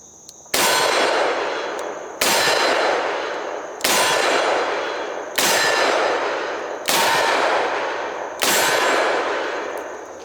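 Six loud double-action shots from a Colt Boa .357 revolver at a range, spaced roughly one and a half seconds apart. Each sharp crack rings out and decays slowly before the next.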